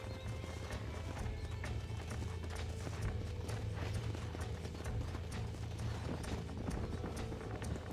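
Steady clip-clop of horse hooves at a trot in the video game Red Dead Redemption, close and continuous, with a brief whinny over a low rumbling game soundtrack.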